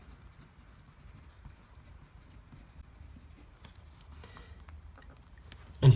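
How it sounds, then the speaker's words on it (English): A fountain pen writes on paper close up, making soft, continuous scratching strokes with faint ticks, then a louder bump right at the end. "let's do a writing sample, and we'll see how the pen and ink work in action"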